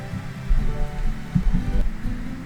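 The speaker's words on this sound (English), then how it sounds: "Oh hey, rain picking up!" Rain patters steadily in the visual-novel game Asagao Academy under soft background music, with denser bursts of drops partway through and no voices.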